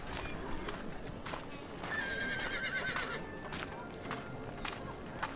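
A horse in a horse enclosure gives one loud whinny midway, amid scattered hoof clops and faint background murmur.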